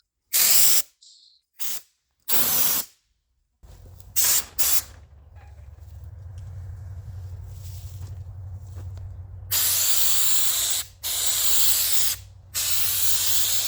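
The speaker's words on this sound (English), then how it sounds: "This product sprayed on really nice. It came with a spray gun." Several short bursts of a spray gun hiss close by, then a longer sustained spray over a low motor hum, followed by more long bursts.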